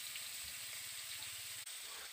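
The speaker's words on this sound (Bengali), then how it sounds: "তো এভাবেই পটলগুলোকেও ভেজে নিচ্ছি।" Slices of pointed gourd, rubbed with salt and turmeric, fry steadily in hot oil with a continuous soft sizzle and faint bubbling, close and without talk.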